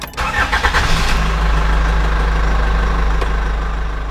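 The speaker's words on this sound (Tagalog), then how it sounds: "In-start ko na agad yung sasakyan." A car engine cranks with a rapid stuttering whir, catches, and settles into a loud, steady idle close by, with a faint click partway through.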